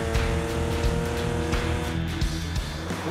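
A Nissan GT-R Nismo drives fast and straight along a road at about 70 km/h. Its engine gives a loud, steady drone with layered harmonics, and the tyres add a constant roar throughout.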